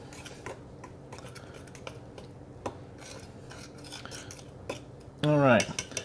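Antique cast iron cornbread pans clink and scrape as they are handled, making scattered metallic knocks and rattles up close, followed by a short voiced sound near the end.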